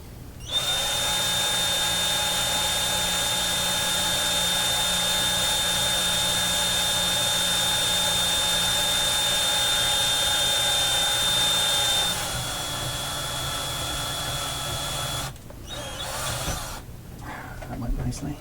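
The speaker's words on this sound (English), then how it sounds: "I could hear the change in the sound as the drill began to penetrate the aluminum" A power drill bores through aluminum on a 6C33 tube OTL amplifier build, a loud steady whine with a thin high tone that holds for about twelve seconds, then the pitch drops, followed by broken bursts and handling noise.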